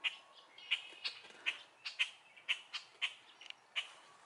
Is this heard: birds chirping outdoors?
yes